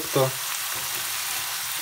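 Eggs fry in Coca-Cola in a pan, giving a steady, close hiss of sizzling and bubbling that runs throughout, with a brief thicker burst near the start.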